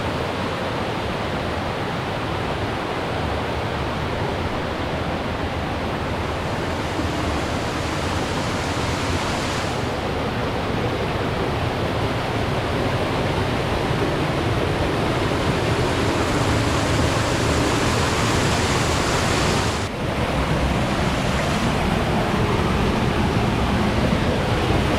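Spring water spilling like a waterfall along the Eleven Point River, a steady, dense rushing roar that fills the whole stretch without a break, close by and constant.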